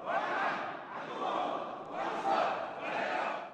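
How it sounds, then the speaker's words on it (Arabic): Crowd of supporters chanting slogans of cursing and vengeance inside the parliament chamber during its first session, loud rhythmic shouted phrases in four surging waves with no separate speech. "الصدريون دخلوا البرلمان وهم يرددون هتافات اللعن والانتقام"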